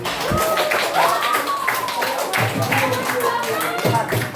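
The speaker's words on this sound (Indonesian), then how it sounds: "Dengan tepuk tangan" Students applauding in a classroom lesson: a short burst of scattered hand claps under a teacher's voice, moderately loud and close, with further talking continuing over the tail.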